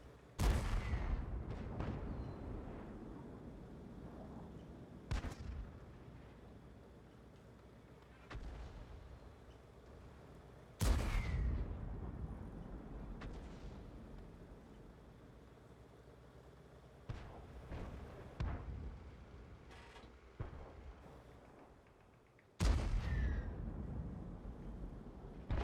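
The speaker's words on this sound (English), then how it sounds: "this guy is firing so many arty shots" Artillery in World of Tanks firing several heavy booming shots spaced seconds apart, each a loud blast that rumbles and fades, with fainter distant gunfire in between.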